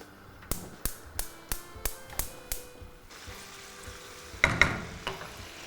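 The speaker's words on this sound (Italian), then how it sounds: "Sentite come sta friggendo bene?" Anchovy fillets and chili sizzle in a pan on the stove, a soft crackling hiss that swells in the second half, preceded by a steady run of sharp clicks, likely the burner igniting.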